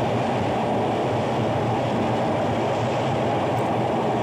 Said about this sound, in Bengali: যেহেতু এটি একটি উড়াল সেতু দিয়ে যাচ্ছে ট্রেন।